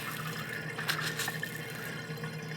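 Water is scooped and sloshed by hand in the gravel bed of an indoor aquaponics planter kept with goldfish, giving faint, close trickling and dripping over a soft, continuous background.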